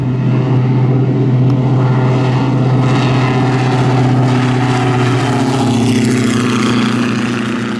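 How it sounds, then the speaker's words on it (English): A steady, loud engine drone from an Elbit Starliner UAV, a civil-certified Hermes 900 variant, fills the whole clip with a constant low hum and a slight shift in tone near the end, with no voices. "The drone that you are seeing behind me, the Starliner"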